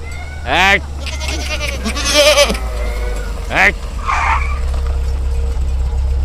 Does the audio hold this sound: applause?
no